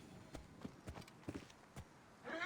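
Horse hooves clip-clop at a walking pace in an ancient Egyptian palace setting, a handful of sharp, moderately close hoof strikes spaced unevenly before a brief rising noise at the end.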